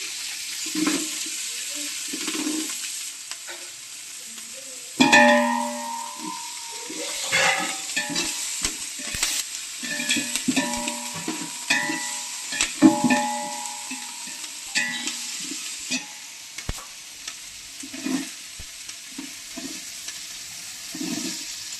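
Green chillies and onion fry in a pan for a Telangana corn snack, a continuous loud sizzle with a sudden burst as ingredients drop in, then scraping stirs and clatter over the hiss.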